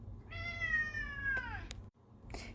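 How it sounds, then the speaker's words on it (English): A male house cat gives one long, clear meow with a bright harmonic stack, close to the microphone over low room hum, followed by a short click. Nobody speaks. "Excuse my cat."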